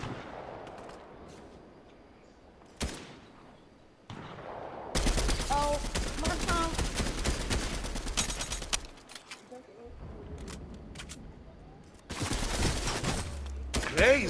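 Gunfire in the video game Fortnite, loud rapid bursts of automatic shots in several long stretches, broken by quieter gaps and occasional single shots.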